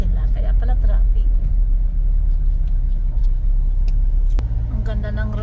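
Night road traffic with cars queuing into a pier by Mall of Asia, a loud steady low rumble of idling and slow-moving engines, with voices talking over it.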